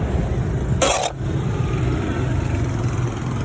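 Road traffic near a market in Bacolod makes a continuous low rumble of passing vehicles, with a short burst of brighter noise near the start.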